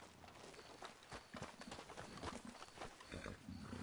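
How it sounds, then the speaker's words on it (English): Horses gallop in Red Dead Redemption 2, with a dense, quick clatter of hooves and a faint background wash, all quiet. "Okay, I cannot cut free these horses."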